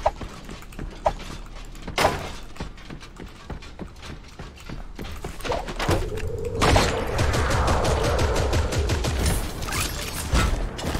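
Gunfire in the video game Creative Destruction sounds as sharp mechanical clicks and bursts, then a dense rapid rattle of shots in the second half, loud and close, with no talk.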